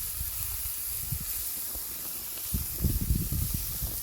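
Cooking spray hisses in soft bursts onto shish kebab kofta, faint at first then louder in a cluster of short puffs near the end, with no talking.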